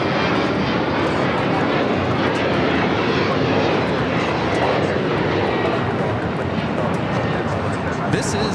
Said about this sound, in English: This is Breeze Airways 6320 taking off to Columbus on the E190.